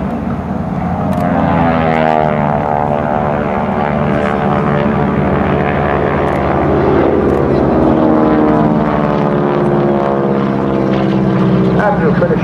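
Propeller-driven Geico Skytypers aircraft flying in formation at the 2010 Westfield International Airshow, a loud sustained droning engine roar with shifting pitch as the planes pass, with a commentator talking over it.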